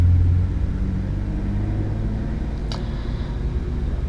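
Distant thunder rolls as a loud, continuous low rumble that swells slightly at the start and then holds steady, with no speech.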